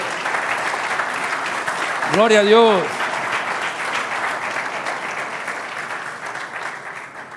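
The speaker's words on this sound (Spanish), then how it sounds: "Denle el aplauso más grande que tiene para Dios." Church congregation at a Sunday celebration service clapping steadily in a sustained, moderately loud round of applause, with a voice briefly exclaiming over the clapping.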